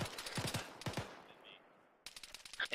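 Arma 3 gunfire, with several sharp close shots in quick bursts, a short decaying gap, then another loud volley at the end.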